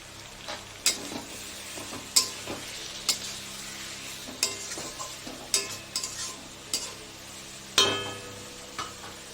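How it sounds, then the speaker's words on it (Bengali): Prawn curry being sautéed in a pan with a splash of water and some sugar, a steady sizzle broken by repeated sharp scrapes and clinks of the spatula against the pan. "একটু জল দিয়ে দিই তারপর কষাতে কষাতে আমি একটু চিনি দিয়ে দেবো"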